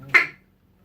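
A single short quack blown on a duck call by voicing a tick into it, one sharp burst that fades within a fraction of a second, close and alone.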